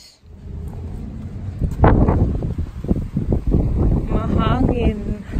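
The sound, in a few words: wind outdoors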